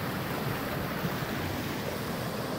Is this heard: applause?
no